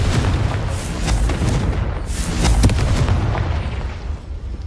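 A Confringo fire spell from the Hogwarts Legacy video game bursts in a loud, rumbling blast that swells and rolls on for several seconds before easing off.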